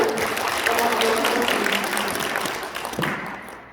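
An audience applauds prize winners, business owners collecting their gifts at a company seminar, a dense, continuous wash of clapping that fades near the end.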